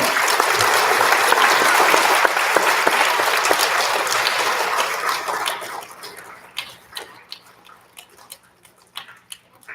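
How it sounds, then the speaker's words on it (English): An audience at an elementary school recognition ceremony applauds second graders, dense clapping for about five seconds that thins out into scattered individual claps before stopping. "Big round of applause for our second graders"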